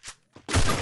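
A K98 rifle shot in a video game: a couple of short faint clicks, then a loud sudden blast with a sustained rumbling tail.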